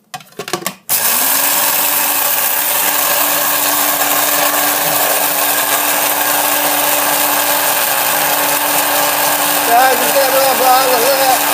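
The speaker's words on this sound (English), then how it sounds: "This is a KitchenAid. Very nice grinder." A KitchenAid coffee grinder grinds dark Starbucks Italian roast beans: a brief clatter, then a loud, steady whirring motor drone held for about ten seconds.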